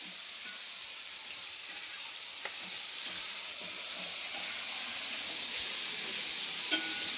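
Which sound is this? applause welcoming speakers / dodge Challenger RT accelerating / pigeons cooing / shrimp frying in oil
shrimp frying in oil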